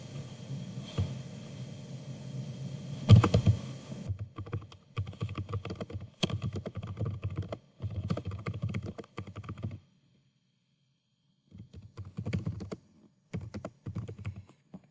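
Bursts of typing on a computer keyboard while bullet points are entered into a PowerPoint slide, with short pauses between runs of close, crisp key clicks and a longer gap near the end.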